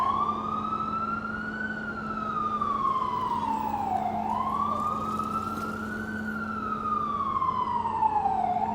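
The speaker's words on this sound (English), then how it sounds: "Sirens and a horn." A wailing siren rises and falls in slow sweeps on a Brooklyn, New York City street, loud and fairly close, over a steady low engine drone; a deep horn tone runs underneath.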